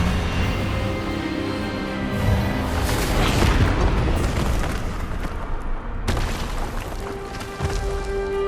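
A spell blast in the Hogwarts Legacy game, heard as a loud booming magical burst with crashing impact noise lasting several seconds, then a sharper hit near the end over a musical score.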